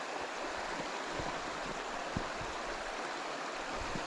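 Davidson's Linn waterfall and stream in Northumberland, a steady, loud broadband rush of falling and flowing water that stays even and close with no voices.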